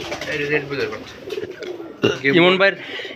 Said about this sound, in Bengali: ভাই এইটা কি আমার ওই যে গেম বার্ড জাতের কবুতর ভাই?